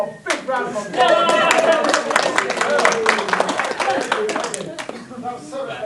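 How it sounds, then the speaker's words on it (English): A convention audience claps loudly for about six seconds after a sci-fi skit, dense handclaps with a few sharp individual claps standing out, with some talking mixed in. "Take all a big round of applause."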